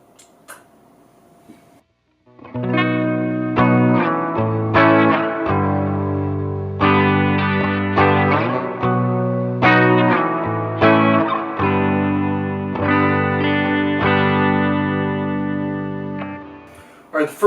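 Guitar through a Strymon Ola chorus pedal strums a series of rich, shimmering chords that ring out and overlap, starting after a brief quiet moment.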